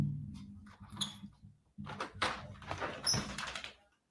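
A house door opens to let a dog outside, with a creak and sliding thud followed by a second movement, some faint squeaks and a possible dog whimper, fairly close in a quiet room.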